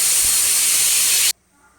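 A loud, forceful hiss of steam blasts from a pressure cooker cooking sambar for just over a second, then cuts off abruptly into near silence.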